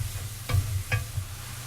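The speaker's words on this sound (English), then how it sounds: "Stir that all together and let that cook for a little while." Broccoli and mixed vegetables stir-frying in a pan, a steady soft sizzle with two short scraping stirs, close and quiet with no talking.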